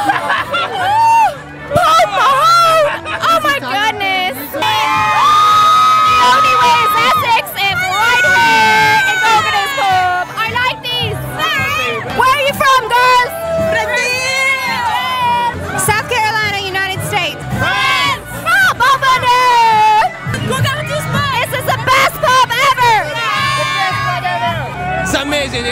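Dense crowd hubbub in an Irish pub on St Patrick's Day, loud chatter and babble throughout with scattered shouts and whoops rising above the steady noise.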